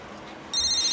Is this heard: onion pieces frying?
no